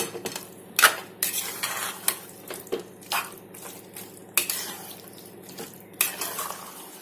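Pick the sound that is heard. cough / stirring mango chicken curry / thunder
stirring mango chicken curry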